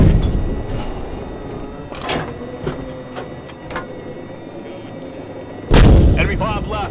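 A main battle tank's cannon fires a high-explosive round in the Squad tactical shooter: one sudden, loud, deep blast near the end, after a stretch of rumbling engine and scattered distant shots, with faint voices.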